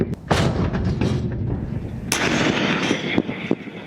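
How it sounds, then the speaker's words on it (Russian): Tajikistan armed forces barrel artillery fires during joint CSTO military exercises at the Kharb-Maidon range in the Pamir foothills near the border. Several heavy booms and sharp cracks come in quick succession, loud and reverberating across open ground. "работает ствольная артиллерия вооруженных сил Республики Таджикистан"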